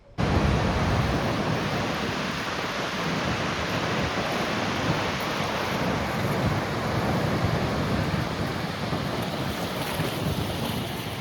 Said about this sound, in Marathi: मी सध्या जायकवाडी म्हणजेच नाथसागरच्या धरणाच्या जे पाण्याचा विसर्ग होत आहे मेन सांडव्यातून